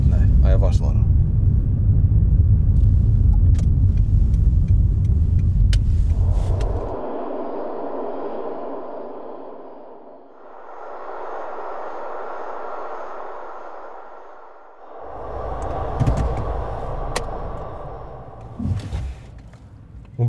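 A car drives along with a loud low engine rumble at first, then eases to a quieter, smoother hum that swells and fades in stretches, with people talking inside over it.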